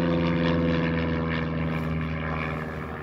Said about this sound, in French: Bon, ça va, c'est qu'un avion.